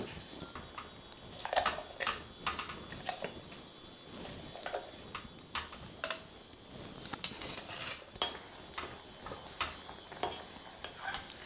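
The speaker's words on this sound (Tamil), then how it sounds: "இப்போ இந்த பூர்ணம் வதங்கிறது இன்னும் கொஞ்சம் நேரம் ஆகணும்." Coconut filling sautéed in ghee in a pan makes a faint, low sizzle with frequent small scraping and tapping strokes of a spoon against the pan, steady and close throughout, without talking.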